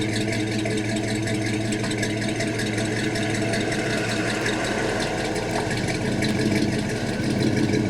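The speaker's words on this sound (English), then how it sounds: "We got our 1976 Cadillac Coupe de Ville on the way in." A 1976 Cadillac Coupe de Ville pulls in with its engine running, a continuous, even mechanical rumble and hum held at moderate level for the whole stretch.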